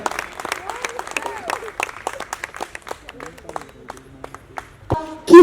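At the Sandalwood film awards ceremony, the audience claps for Kiran Raj winning Best Director for 777 Charlie. Scattered, sharp handclaps run under a presenter's voice, ending in a louder burst.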